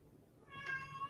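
A house cat meows once, a clear drawn-out call rising out of a quiet room, close and moderately loud, alone without talk.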